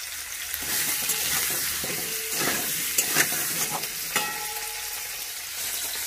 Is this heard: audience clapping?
no